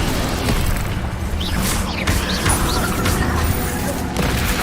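Incendio fire spell blasts in the Hogwarts Legacy video game during a goblin fight in the Forbidden Forest, a steady loud roaring wash of combat noise with faint rising whooshes.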